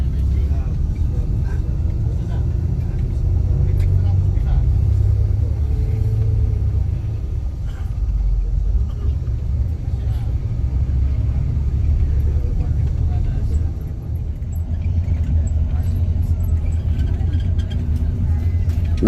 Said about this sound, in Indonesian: ini bus diberangkatkan lagi menuju ke pelabuhan Ketapang